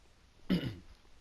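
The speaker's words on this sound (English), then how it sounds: "Sorry about clearing my throat." A single short throat clear from a man playing Bloodborne, close to the mic, alone against a quiet background.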